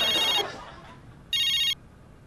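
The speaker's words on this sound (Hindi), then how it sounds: "फोन आया, फोन।" A phone rings in two bursts of bright electronic trilling with a short pause between, close and fairly loud.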